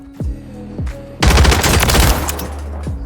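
SMG fire in Warzone 3, a dense rapid burst of shots about a second and a half long, loud and close, with sweeping low engine-like tones before and after.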